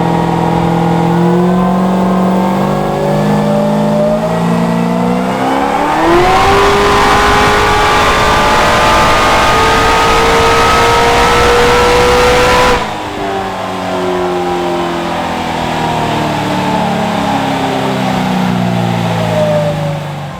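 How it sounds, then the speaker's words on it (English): A 900-horsepower 1969 Camaro V8 on a dyno, revving hard in a long sustained pull that climbs in pitch, holds loud for several seconds, then drops back abruptly to a lower, still-loud running note. "we made some dyno pulls"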